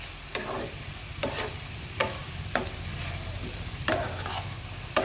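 Ladies finger and other vegetables fry with chopped garlic, curry leaves and green chili in a pan, a steady close sizzle broken by several sharp scrapes of a spoon stirring at irregular intervals.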